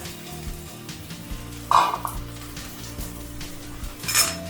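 Cabbage, capsicum and carrot stir-fried for veg fried rice, with a low steady sizzle, occasional spatula scrapes and a couple of brighter metallic clinks against the pan.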